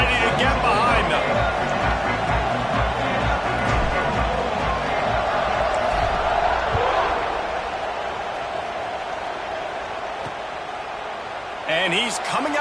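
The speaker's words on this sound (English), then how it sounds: "Set to kick it off, and this crowd now ready to get behind them" A football stadium crowd roars loudly at kickoff, a dense sustained cheer that fills the space and then eases slightly toward the end.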